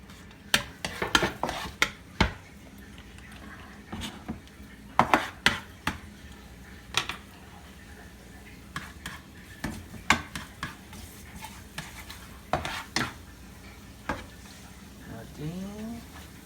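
Garlic sautés in a pan for chicken croquettes, with faint sizzling under frequent sharp clinks and scrapes of a utensil against the pan.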